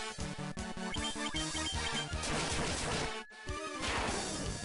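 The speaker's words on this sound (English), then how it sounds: "I love the Excalibur sounds when you swing it" Excalibur sword swings in the Final Fantasy 1 video game: a run of quick, loud retro clanging hits in rapid rhythm, a brief gap, then more strikes, with no talk over them.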